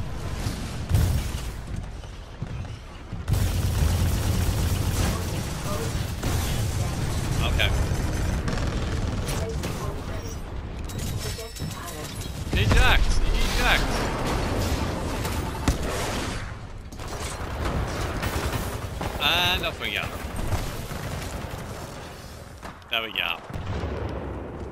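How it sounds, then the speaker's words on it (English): Gunfire and explosive booms in the shooter Titanfall 2, sustained, loud, dense volleys of shots with heavy blasts rolling through the whole stretch, with a player talking over the action. "Can you stop shooting at me?"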